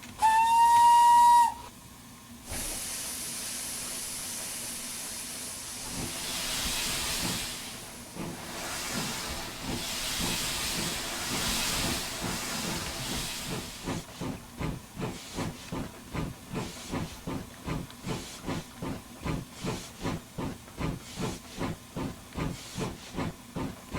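A steam whistle sounds first, then a long hiss of steam, and the rhythmic chuffing of a Hudswell Clarke contractor's steam tank locomotive in a train simulator game builds steadily as it pulls away from Sheringham.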